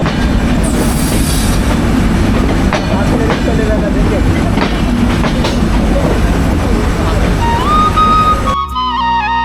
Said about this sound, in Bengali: এটা হচ্ছে কিন্তু খুলনা রেলওয়ে স্টেশন।